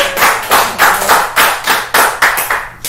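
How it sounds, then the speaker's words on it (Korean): Rhythmic, fairly loud clapping, about ten even claps in three seconds, close by with no voices, at a church chapel service. "우리 소윤수의 박수."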